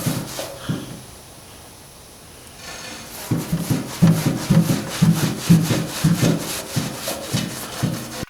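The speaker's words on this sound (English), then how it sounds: "But first I'm gonna wash it down with a little acetone" Rag wiping acetone over the bottom of an old boat hull being restored after years out of the water, a steady run of close rubbing strokes in a brisk back-and-forth rhythm after a few quiet seconds.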